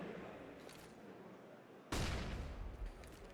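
A grenade blast in Counter-Strike on the Inferno map during a professional esports match, heard as one sudden loud boom partway through after quieter gunfire and game ambience.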